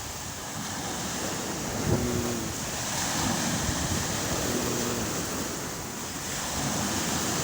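Waves wash onto a palm-fringed shore at high tide, a steady moderate rush of surf with gusting wind against the microphone and a few faint tonal sounds in the distance.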